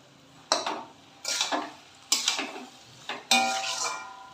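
Fish roe curry being mixed with spices in a pan: four separate bursts of spoon scraping and clattering against metal, each a second or less, with quiet gaps between and no voices.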